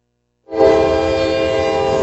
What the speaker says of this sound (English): Trains are an unavoidable part of life in Jemison.